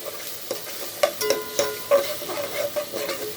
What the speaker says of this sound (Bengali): এখন আমি মশলাটাকে খুব ভালোভাবে কষিয়ে নেব।